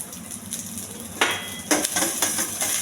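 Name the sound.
stirring chana dal, cumin and dried chilies frying in pan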